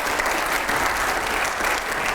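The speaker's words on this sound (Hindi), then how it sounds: "एक बार जोरदार तालियां हो जाए पहले इसके लिए।" Loud, sustained audience applause fills a hall during a televised public talk, a dense, steady wash of clapping with no gaps from start to finish.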